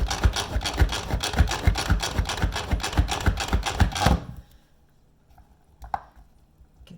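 Manual food processor chopping food, a rapid rhythmic series of loud close chopping strokes for about four seconds, then stopping, followed by quiet with a couple of faint knocks.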